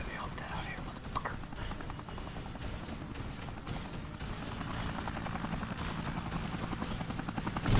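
Helicopter in the video game Dead Rising, a steady rotor chop with a continuous mechanical thrum that holds loud and close throughout, rising slightly toward the end.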